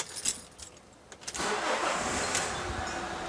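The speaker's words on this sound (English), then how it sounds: "And now it starts the vehicle." Motorhome engine cranking and catching after the immobiliser tag goes on the receptacle: a few faint clicks and a brief crank, then a steady close idle rumble that carries on to the end.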